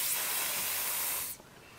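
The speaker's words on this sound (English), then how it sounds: "because I'm at a distance, it's just showing a lovely speckled spray" A spray paint can hisses steadily for over a second as paint is misted onto a sketchbook page from a distance, then cuts off, leaving near silence.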